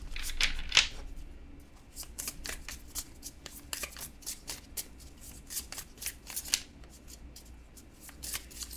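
A mystical pocket deck of cards being shuffled by hand, with repeated riffling and brushing strokes that come in uneven bursts, near and fairly quiet, with no voices.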